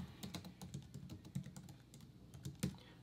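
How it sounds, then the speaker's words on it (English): Steady typing on a computer keyboard, a quick run of light, close clicks with a few louder keystrokes, alone without voices. "you can start typing in here"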